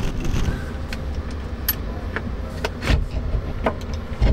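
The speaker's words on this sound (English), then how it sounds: "Windshield does crank out like it's supposed to." The windshield on a 1934 Ford hot-rod pickup with a 409 V8 is cranked open by hand, giving a run of close, uneven mechanical clicks and creaks over a low rumbling background.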